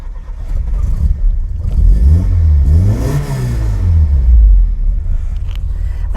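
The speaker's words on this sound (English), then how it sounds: "let me start the car up, you can hear what it sounds like" A classic Lancia Fulvia engine cranks, catches and settles into a loud, close idle with rising and falling revs, a deep rumble running steadily throughout with no voices.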